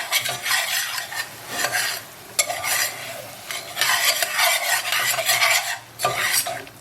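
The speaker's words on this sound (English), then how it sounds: "we're going to go ahead and add the rest of our spices and the garlic. And we'll make that nice and incorporated." Spices and garlic being stirred in a pan for Bangalore-style rasam, a steady scraping stir over a continuous sizzle, close and fairly loud, with occasional utensil knocks against the pan and no talking.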